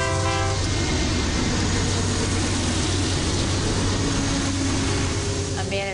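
Railroad train passing close by, with a steady heavy rumble of rail cars and a sustained harmonic horn blast at the start, while voices talk faintly in the background.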